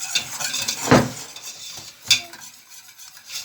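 Flour roasts in butter in a pot for soup while a spoon stirs it, giving soft scraping with two sharper clanks of metal against the pot, close and fairly quiet, no voices.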